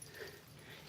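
A neighbor's dog whimpers and yips quietly at a distance, a faint, brief whine over steady outdoor background noise with no talking.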